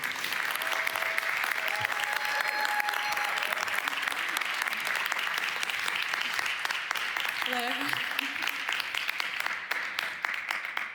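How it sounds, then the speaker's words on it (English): Sustained applause from a live audience at a DLD25 conference session with Sophie and the Giants, dense steady clapping throughout with a few cheers and voices rising over it. "please, first round of applause tonight"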